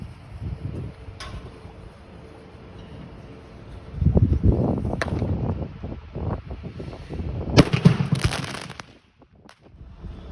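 A firework mortar is set off against a test dummy in a fireworks safety demonstration, giving loud, windy bursts and crackling blasts around the middle of the clip and again near the end, heard outdoors with no talk.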